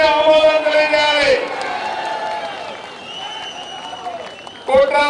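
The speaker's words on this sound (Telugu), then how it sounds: "గట్టిగా చప్పట్లు కొట్టి హర్షాన్ని ఆమోదం తెలియజేయాలి" A crowd applauds at a political meeting with minority communities in Guntur, clapping loud and close, then fading into a lingering murmur before a fresh burst of applause and cheering near the end.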